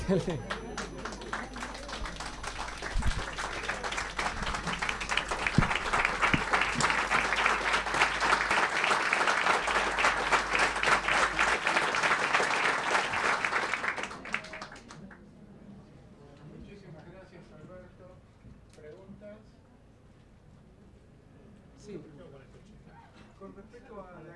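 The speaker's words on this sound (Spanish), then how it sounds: "Hay que aplaudir a Betty, no a Alexa" An audience at a science lecture on genes applauds with dense, sustained clapping that swells for about fourteen seconds, then stops abruptly, leaving a quiet room with faint murmurs and low voices.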